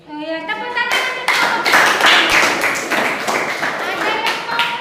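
Students applauding in a classroom, a dense burst of close clapping that swells quickly and holds steady, with a voice briefly heard at the start.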